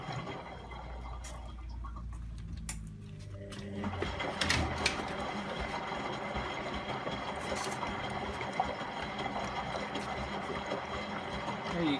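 A Bush F721QW washing machine on a fast wash cycle hums and clicks as it fills and agitates. It is a continuous mechanical whir with splashing water and intermittent knocks, heard close up with no talking.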